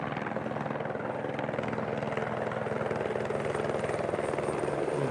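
Customs helicopter flying near the US–Mexico border, its rotor chop a steady, continuous drone that stays loud and close throughout with no talk over it.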